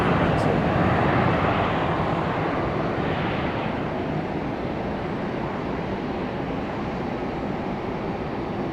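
A passenger airliner touches down at Raleigh Durham airport, its steady broadband engine and rolling roar heard from a distance, loudest at first and then settling into a constant rumble.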